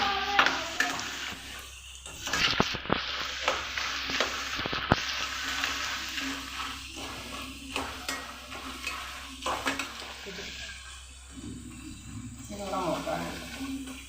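Jackfruit chips sizzle steadily in hot oil as they are stirred around the pan, with occasional scraping clatters over a constant frying hiss and a voice talking intermittently.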